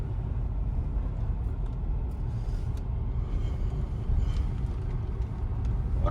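Tata Sierra with a 1.5 naturally aspirated engine straining up a slope, a steady loud low engine drone and road rumble throughout, with no talk.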